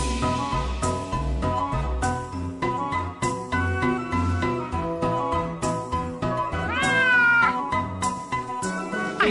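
A cat meows over a bouncy children's rhyme backing track, with one drawn-out rising and falling meow standing out clearly above the steady music and drums near the end.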